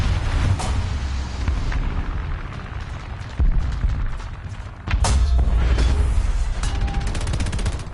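Rocket strafing explosions and gunfire roar through a War Thunder match, a dense rumbling battle bed broken by sharp booms near the middle and a heavy, sustained barrage in the second half, with no talk.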